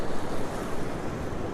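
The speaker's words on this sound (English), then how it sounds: "Wow, it's windy." Strong wind and ocean surf at Currumbin Beach in Queensland, a dense continuous roar of breaking waves mixed with gusty wind buffeting close against the microphone.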